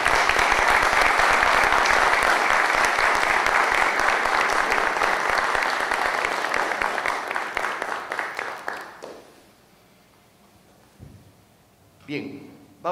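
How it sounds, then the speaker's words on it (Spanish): Audience applause at a Miraflores citizens' security committee ceremony, dense clapping steady for about eight seconds, then fading to near silence with a brief scattered clap near the end. "Le brindamos un fuerte aplauso, por favor."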